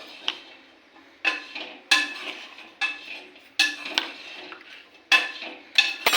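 Metal spoon clinks against a pot or cup as three spoonfuls of sugar are added for tea, several sharp, close clatters spaced through the quiet.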